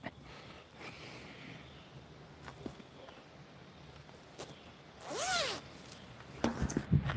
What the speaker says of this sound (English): I gotta zip my sweatshirt.